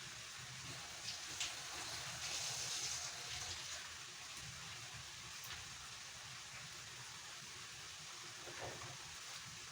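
Running water from a kitchen tap as hands and a ladle are rinsed during cooking, a faint, steady hiss and splash with a few small clinks, continuous and without talk.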